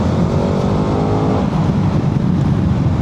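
A KTM 1390 Adventure S Evo motorcycle engine pulls hard under acceleration, a loud, steady low rumble with dense harmonics sustained throughout, no voices.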